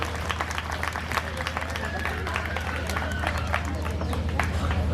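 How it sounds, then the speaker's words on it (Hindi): Steady crowd applause at a Diwali celebration, with dense, continuous clapping at moderate loudness and a murmur of voices mixed in. "अब बच्चों के लिए तो जोर से तालियां बजनी चाहिए"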